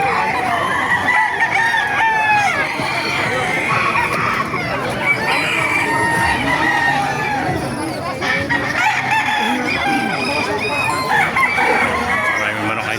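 Chickens and roosters at a Calumpit tyangge poultry market in the Philippines cluck and crow over a steady crowded din, with several overlapping crows and faint voices mixed in throughout.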